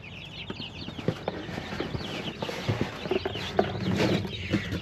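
Young chicks on a homestead, many small cheeps and peeps overlapping at close range, with light scratching and knocking in between.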